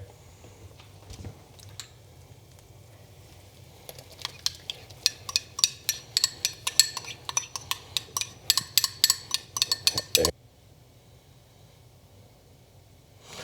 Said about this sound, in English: we're gonna actually add this back into our stock